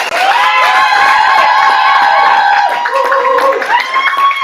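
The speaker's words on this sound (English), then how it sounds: "Keep that round of applause going for Colin." A poetry slam audience cheers and whoops loudly, with sustained shouting voices and applause filling the whole stretch.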